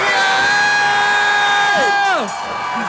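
A wrestling crowd at an EBW event cheers loudly, a continuous close roar with rising and falling shouts that dips slightly near the end.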